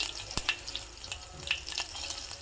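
Half a green chilli sizzles in hot oil during a tempering with asafoetida, giving a faint, close crackle with a few sharp pops and no talking.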